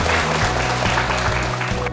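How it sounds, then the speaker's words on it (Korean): A studio audience at a televised doctors' talk concert on skin care, Botox and fillers, applauds a volunteer with loud, continuous clapping, backed by a low sustained musical tone. "여러분 박수 부탁드립니다"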